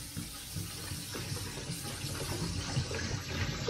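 Water runs steadily into a container for squash mixing, a continuous close rushing pour with no talk.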